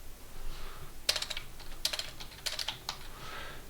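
Bursts of computer keyboard typing while building an HTML and CSS footer, quick clustered key clicks in several short runs separated by brief pauses, close and clear.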